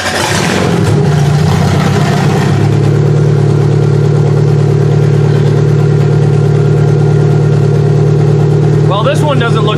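A car engine starts with a sharp burst and settles into a loud, steady running drone nearby after a transmission cooler install, with a brief rattling noise near the end.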